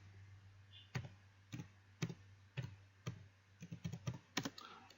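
Keys clatter on a computer keyboard in short, irregular bursts of typing: a few isolated clicks, then a quicker run of strokes. They sound close but quiet over a low steady hum, with no voice.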